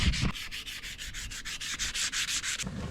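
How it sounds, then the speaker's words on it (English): Rhythmic back-and-forth sanding on rusty spots of a boat trailer, a steady scratchy rasp repeating in even strokes about four per second, close and fairly loud with no talking. "I'm gonna start in these bad spots and just kind of sand out what I can of it."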